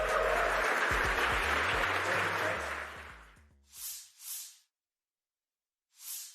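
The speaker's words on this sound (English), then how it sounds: "a standing ovation for yourselves. Round of applause." Loud audience applause at a live tech conference fills the room for several seconds, then tapers off into a few short, faint bursts of hissing noise separated by silence.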